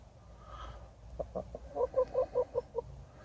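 Backyard hens clucking in a spring garden, a faint run of short rhythmic clucks close by, quickening into a steady series near the end.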